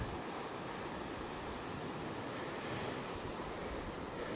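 Black Sea waves wash steadily onto the shore beside a beach camp spot, a continuous broad roar of surf mixed with wind buffeting, even and unbroken with no voices.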